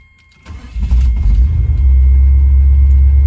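A revived 1988 Jeep Grand Wagoneer engine catches and settles into a steady, loud, close idle rumble after a brief quiet start, with no talking.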